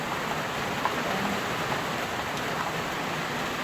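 Rainwater leaking through a roof full of holes into a house at night: a faint, steady hiss of rain with soft scattered drips and no voices.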